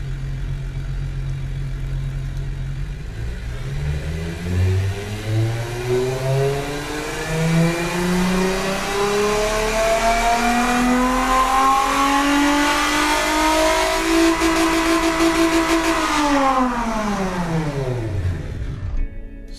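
A 1985 car in the game Automation, fitted with long tubular headers, dual exhausts and two straight-through mufflers, revs loudly and up close, its engine pitch climbing steadily for about fifteen seconds before dropping off sharply, with no talking.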